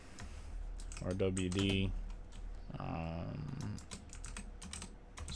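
Fingers tap on a computer keyboard while setting up a game server for Assetto Corsa, light rapid clicks running throughout, with a person talking over part of the typing.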